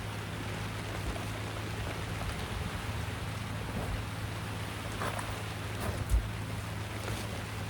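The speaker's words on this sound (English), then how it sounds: "Still raining." Steady rain falling on a lake during a fishing trip, a continuous hiss of drops on water with a low constant hum beneath and a brief knock near the end.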